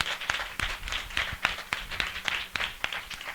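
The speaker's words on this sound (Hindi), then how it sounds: "जोरदार तालियों से हम स्वागत करें।" Congregation at a church gathering applauding, a sustained wash of many hands with sharper individual claps popping out at a steady pace, moderately distant and fairly quiet.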